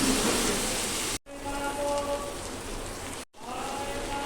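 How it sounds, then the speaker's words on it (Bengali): A small piece of hilsa fish fries in hot oil with a loud, dense hiss and crackle. It is close and continuous, cut by two brief silent gaps, with no talking. "আমি ইলিশ মাছের একটা পিস দিয়ে দিচ্ছি ছোট ইলিশ এটাকে ভালো করে ভেজে"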